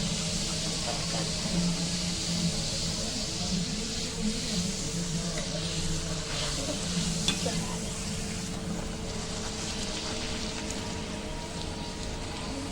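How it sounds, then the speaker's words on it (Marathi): Puris deep-fry in hot oil, a steady moderate bubbling sizzle and hiss that holds for several seconds, with occasional faint clinks and a low background hum. "तेल आपलं तापलं आहे आता आपण पुऱ्या तळून घेऊया"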